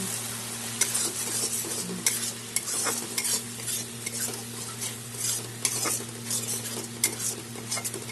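Sago (joya rice) stirred into sizzling spiced oil for a Bengali chal patal dish, with a steady sizzle under repeated scraping and clinking of a spoon against the pan, close and continuous.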